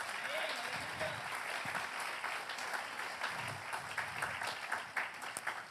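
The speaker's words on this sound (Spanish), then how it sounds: "Denle un aplauso al Señor." A church congregation claps together for several seconds, a moderately loud, steady applause heard from within the room, with some voices and faint talk mixed underneath.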